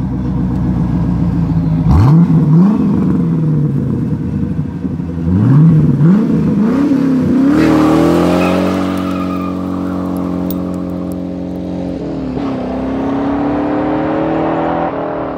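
A Corvette engine revving repeatedly, several sharp rising bursts followed by a sustained high rev and a long settling whine, loud and close with no talking.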